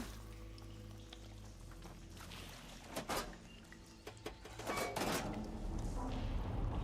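Water gurgling and pouring through pipes in the video game Horizon Forbidden West, a steady low rush with brief louder splashing bursts toward the end.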